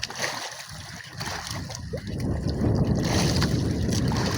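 Large sea waves around a small fishing boat on windy open water, a rough rushing wash with wind buffeting the microphone that swells louder toward the end.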